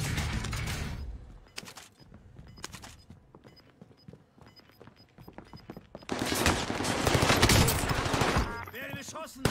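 Video game gunfire, with bursts of shots and rapid automatic fire, sparse at first, then a dense loud barrage near the end, close and prominent against a background of game sounds.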